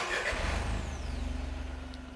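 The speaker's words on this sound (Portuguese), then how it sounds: "Vamos ligar o motor para que já apareça o valor da rotação" A Volkswagen MSI EA211 car engine turns over and settles into a steady idle, a low continuous rumble with a faint whine that sits close by and alone with no voices.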